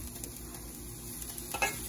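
Steady crackling sizzle of fish frying in a hot pan, continuous and close, with a brief louder pop near the end.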